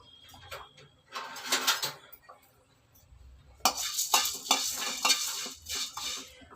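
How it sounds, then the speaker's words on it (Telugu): Coriander seeds and dried red chilies are dry-roasted in a pan without oil, with bursts of rattling and scraping as a spoon stirs them, separated by quieter pauses, close and moderately loud. "మనం ఇప్పుడు చూపించిన ధనియాలు ఇవన్నీ వేయించుకుందామండి."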